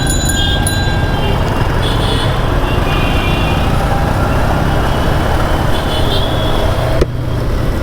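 Jammed road traffic with trucks and buses: loud, continuous engine rumble and idling close by, with tonal horn or brake hisses early on and a sharp clack near the end, no clear voices.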